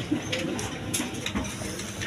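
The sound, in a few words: pair of pigeons cooing while sitting on eggs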